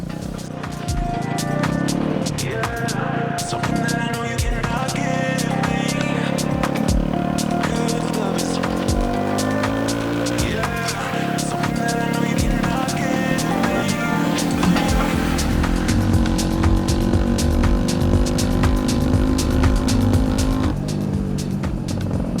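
A Honda CB125 motorcycle ridden out toward country roads, its small engine droning steadily close up throughout with shifting pitch as it accelerates and changes gear, wind noise layered over the continuous motor.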